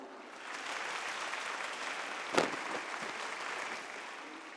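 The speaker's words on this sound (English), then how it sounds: "Let's congratulate them with a huge round of applause." An audience at a school annual day breaks into sustained applause, a dense, even wash of many hands clapping from a distance, with one louder sharp clap near the middle.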